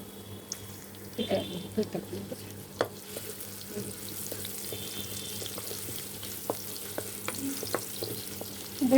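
Two large chopped onions fry in oil with ginger, garlic and dried chillies for a rice dish, a soft continuous sizzle with occasional stirring clicks and scrapes, fairly quiet and close.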